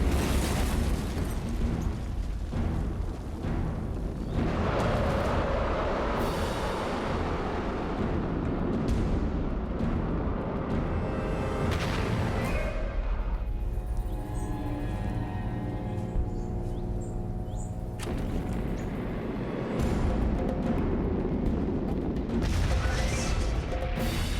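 A V2 rocket launch gone wrong roars in a long, loud explosive rumble, swelling and surging continuously, easing briefly in the middle before booming back up at full strength.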